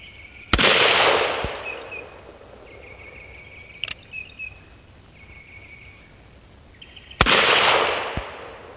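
Two loud gunshots from an Uberti 1873 .45 Colt revolver at an outdoor target range, each a sharp crack with a trailing echo, several seconds apart, with faint clicks between them and insect buzz in the background.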